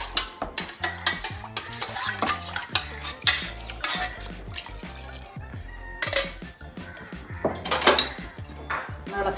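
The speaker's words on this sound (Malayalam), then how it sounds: "ഇളക്കി നോക്കട്ടെ." A spoon stirs Kerala varutharacha sambar, made with roasted ground coconut, in a pressure cooker pot, giving close, irregular metallic clinks and scrapes with soft sloshing in between.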